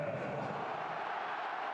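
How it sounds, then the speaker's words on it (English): A sold-out stadium crowd roars steadily at an LAFC versus Inter Miami Concacaf Champions Cup match, a dense, continuous wash of cheering that fills the whole stretch with no single voice standing out. "A sold-out crowd thumping now."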